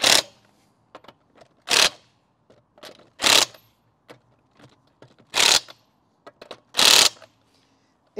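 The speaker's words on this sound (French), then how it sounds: "Et on a terminé avec la clé à choc." Impact wrench tightening the lug nuts on a car wheel during a tire change, five loud, sharp hammering bursts spaced about a second or more apart, with small clicks and handling noises between them.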